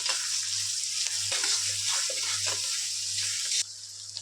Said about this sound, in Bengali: পেঁয়াজটাকে ভালো করে লাল লাল করে ভেজে নেওয়া হবে।